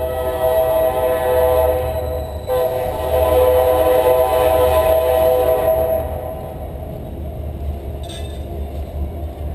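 A train passes near a museum construction site where masons are laying up walls, a loud steady rumble with a sustained horn tone that cuts off partway through, the rumble then easing slightly.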